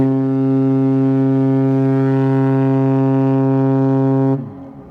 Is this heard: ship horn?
yes